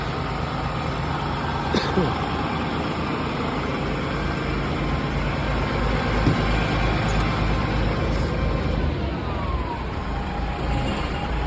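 A DAF XF480 truck's diesel engine runs steadily after repair work including a turbo replacement, oil service and valve adjustment, a loud, close, continuous rumbling drone with no break.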